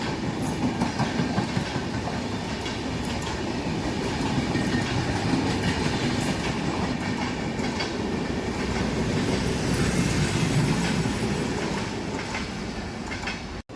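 A Gatimaan Superfast Express train passing, a loud, continuous roar of wheels and rushing wagons with rhythmic clickety-clack over the rails, steady and close throughout.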